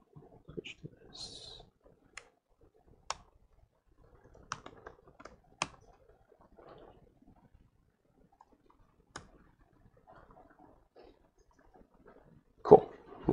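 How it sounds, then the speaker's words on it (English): Sparse, irregular key taps on a Microsoft Surface keyboard, quiet and close, with short pauses between clicks and one louder clack near the end, in an otherwise silent lecture room. "pardon my typing on this Surface keyboard."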